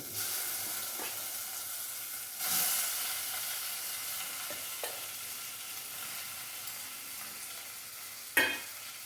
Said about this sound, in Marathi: आता मी त्यात ही नीट केलेली स्वच्छ केलेली कोळंबी घालते.